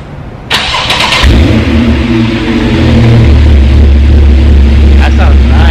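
Porsche 911 C2S of the 991 generation with a freshly installed Sharkwerks race exhaust cranks and fires up, catching after a few starter bursts into a loud, deep, rumbling idle that swells, close by, with people talking briefly.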